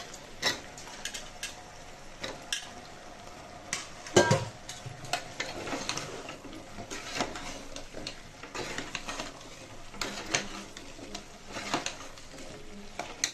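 Drumstick and brinjal pieces sauté in a pan of oil and spices for Tamil kara kuzhambu, giving a soft steady sizzle broken by scraping stirs and a sharp clatter of the spoon against the pan.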